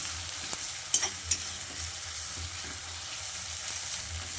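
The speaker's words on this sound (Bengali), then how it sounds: "এবার এই কুচনো পেঁয়াজটা দিয়ে তেলের সঙ্গে বেশ কিছুক্ষণ ভেজে নিচ্ছি" Chopped onion sizzles steadily in hot oil in a pan for a Bengali hilsa fish curry with potato and eggplant, a close, even hiss broken by a few light clicks of stirring.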